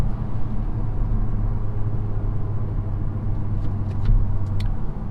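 Cabin of a 2019 Mazda CX-3 under acceleration, with the engine holding a gear: a loud, steady low drone and road rumble with no shift, and a few faint ticks near the end.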